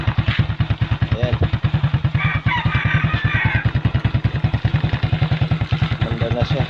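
A motorcycle without a working kickstart, started by turning the wheel, now running: a steady, close, rapid putt-putt idle with an even pulsing rhythm, a faint crowing rooster in the background.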